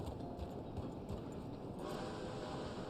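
Horse hooves clip-clop steadily in Red Dead Online as a mount is ridden, a continuous run of quick, even footfalls over a dense, rumbling game soundscape.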